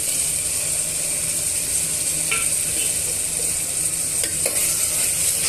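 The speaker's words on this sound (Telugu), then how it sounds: "ఉల్లిపాయ ముక్కలు పచ్చిమిరపకాయ ముక్కలు బాగా వేగిపోయాయండి" Onion and green chilli pieces fry in a pan as a steady close sizzle and hiss, with a few brief scraping stirs for bagara rice.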